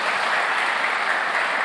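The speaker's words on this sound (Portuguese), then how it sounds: "Vamos aplaudir para Deus." A church congregation claps together in a dense, steady burst of applause, loud and close, filling the short moment without pause.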